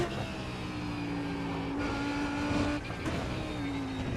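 A GT3 race car in iRacing at Suzuka revs hard, its engine note climbing and holding in a loud, continuous whine, then dipping briefly and rising again, up close with no voices.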